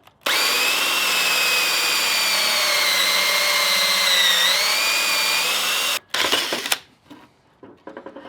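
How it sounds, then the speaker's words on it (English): A power drill spins a 1 1/4 inch hole saw bit through a 2x4, a loud steady whine for about six seconds with a slight pitch dip near the end, then a rougher burst as the cut breaks through and stops. "you're just going to need a hole saw bit. This one's 1 1/4 inch and it's long enough to go through a 2x4"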